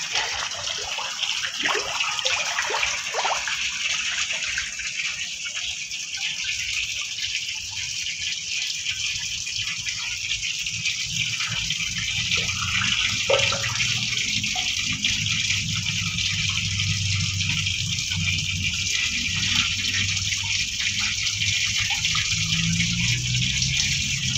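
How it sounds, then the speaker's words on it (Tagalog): Water gushes steadily and loudly into a catfish pond for the whole stretch, a constant rushing pour with a low churning undertone. "Saka nagpalit na rin ako ng tubig."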